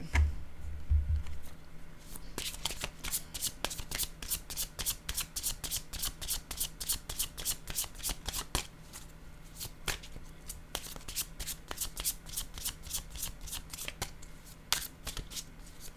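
Tarot cards are shuffled by hand over and over, giving a steady run of crisp riffling flicks and soft slaps at close range, with no talk over the sound.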